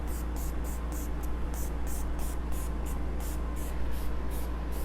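Paint sprays from a spray can onto upholstery in a string of short, even hissing bursts, close and steady, over a constant low hum.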